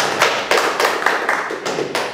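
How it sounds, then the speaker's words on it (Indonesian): An audience at a student discussion event applauds, giving a few seconds of dense, close clapping with regular stronger bursts running straight through. "tepuk tangan buat"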